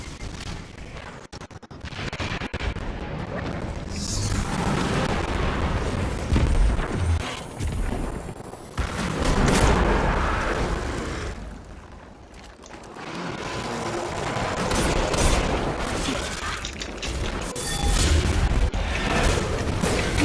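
Gunfire in a video game where the player uses a sniper rifle, with repeated booming shots and explosions in a dense, continuous battle din that dips briefly before swelling again.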